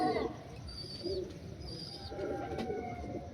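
Blue-eyed Malwai pigeons coo in soft, low, throaty bursts, several short calls spaced out across the clip, with faint chirps and background noise.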